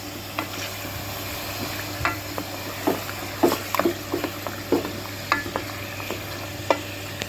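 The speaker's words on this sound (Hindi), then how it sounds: "इसको भी हम थोड़ा सा गोश्त के साथ अच्छी तरह से भून लेते हैं।" Chicken pieces fry in a pot with ginger garlic paste for achar-style chicken biryani, a constant close sizzle broken by repeated scraping stirs of a spoon every second or so.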